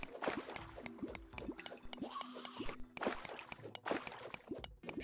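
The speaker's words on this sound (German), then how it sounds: "Wie viel Wasser hier rausläuft, wa?" Water gushes and splashes out in the video game Terraria, where an underground area is flooded, forming a busy, continuous liquid rush of moderate loudness with no voices.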